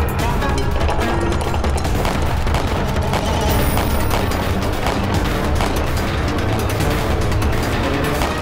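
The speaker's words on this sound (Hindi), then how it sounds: "तोप का मुंह उस तरफ करो, हम खुद चलाएंगे तोप अभी।" Cannons fire in a large battle with Maharana Pratap's army, producing a dense, continuous, loud barrage of booms and blasts with no break for the whole stretch.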